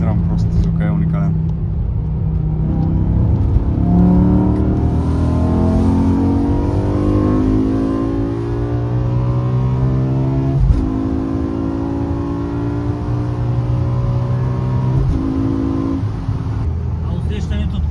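A BMW M5 E60 engine revs hard under acceleration from inside the car, its loud rising tone climbing through gears with brief shift breaks, while someone talks over it.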